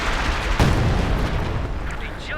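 An artillery barrage falls on infantry in the Company of Heroes 2 strategy game: a dense, rumbling wash of blasts with one heavier boom early on, loud and continuous throughout.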